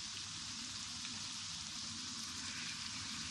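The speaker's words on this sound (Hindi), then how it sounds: "अब इसको अच्छी तरह फ्राई कर लेंगे।" Masala spice paste sizzling hard in a hot pan for Lahori masala gosht, a steady, dense crackle running unbroken throughout, close and fairly quiet, no speech.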